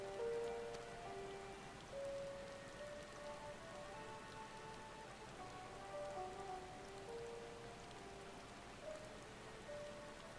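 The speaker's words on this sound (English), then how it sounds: "I'm not sure rain should be possible in this kind of terrain." Steady rain falls in the Final Fantasy XIV Endwalker game world, a soft continuous patter of drops on surfaces. Faint tonal music lines run quietly over it and no voices are heard.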